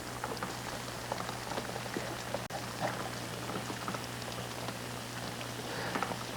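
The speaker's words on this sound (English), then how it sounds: "It's raining." Rain falling outdoors as a faint, continuous patter of scattered drops, with a low steady hum running underneath.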